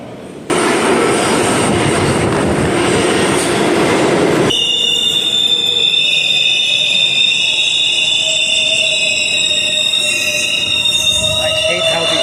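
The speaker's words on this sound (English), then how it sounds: "The L train seems to run every 5 minutes today." A New York subway L train pulls into First Avenue station, a loud broadband rumble of wheels for about four seconds giving way to steady high squealing and whining tones as the train slows and sits at the platform.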